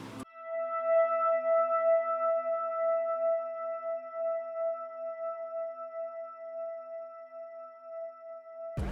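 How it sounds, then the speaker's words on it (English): One sustained note from a contact pad synth plugin rings alone, steady and clear, with a soft bell-like tone that holds for several seconds before cutting off. "a single note on a contact pad plugin that sounds like this."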